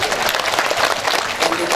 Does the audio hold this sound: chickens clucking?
no